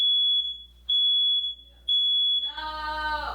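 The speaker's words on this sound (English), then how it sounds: "May or may not have made the fire alarm go off" A smoke alarm goes off during home baking, sounding piercing high beeps in two long bursts, then a person cries out loudly as the alarm continues.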